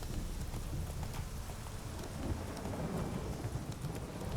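Roach, the horse in the video game Witcher 3, gallops with steady rhythmic hoofbeats close by, layered over a constant rushing backdrop like rain and low rumbling.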